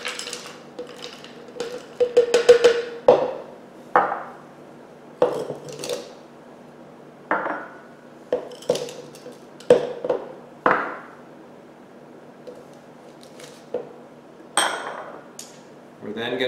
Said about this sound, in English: we're simply going to take our fruit and put it in the blender